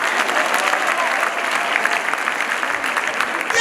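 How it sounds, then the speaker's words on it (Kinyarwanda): An audience claps for a man at a lively church gathering, steady applause filling the room from start to finish without a break. "Nimwampera n'uyu mugabo amashyi wanyemeye"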